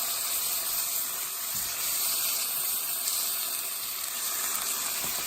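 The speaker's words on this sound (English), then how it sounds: "I have this beautiful lamb, and we're going to go ahead and put it on the oil like that" Lamb sizzles in hot oil in a pan, a steady, loud, broad hiss that holds evenly throughout with no voices.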